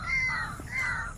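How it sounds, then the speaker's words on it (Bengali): A crow caws twice in quick succession outdoors near a large pond in the Sundarbans, harsh and moderately close, with a brief pause between the calls and no talk. "ওখানে পাখি ডাকছে"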